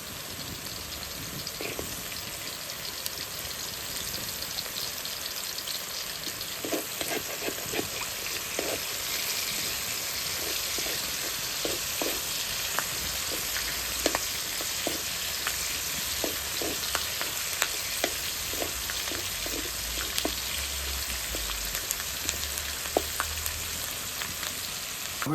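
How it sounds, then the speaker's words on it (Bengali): Garlic cloves sizzling and crackling in hot oil to temper boiled greens, a steady close frying hiss with scattered sharp pops throughout, and no talking. "ওই যে তেল দিয়ে দিলাম, আস্তা কটা রসুন দিয়ে দেবো।"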